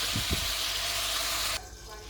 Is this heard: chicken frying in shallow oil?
yes